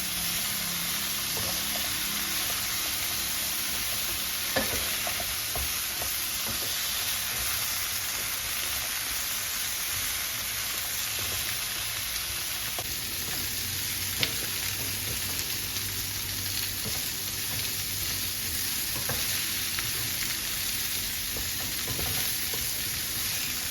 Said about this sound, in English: So this is still a bit hard, so I'm just gonna stir in a little bit